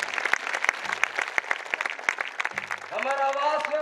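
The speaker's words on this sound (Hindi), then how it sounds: "ओकरो पर जोरदार ताली बजाए" Crowd clapping loudly for an event organising team at a large public gathering, a dense spread of hand claps throughout, with a voice over a loudspeaker carrying above it.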